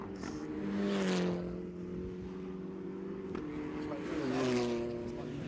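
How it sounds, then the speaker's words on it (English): Saloon race cars, including Honda Civics, roar down the pit straight at a circuit race meeting, engines rising and falling in pitch as they pass, under continuous commentary. "Down the pit straight again towards the first corner, and the other Honda Civic starting to close in as well."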